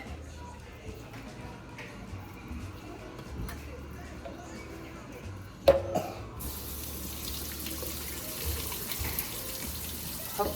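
Beans being strained in a kitchen sink: a steady wash of running, splashing water over about ten seconds, with a sudden clatter midway and occasional knocks of the pot or colander.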